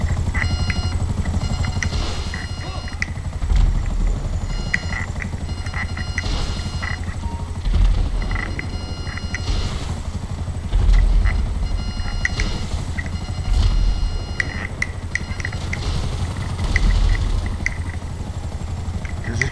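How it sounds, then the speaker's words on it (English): Police helicopter in the video game GTA V Online, a loud continuous rotor drone with a pulsing chop, mixed with mechanical game sounds and engine noise, no talk. "Just be careful of the police helicopter there."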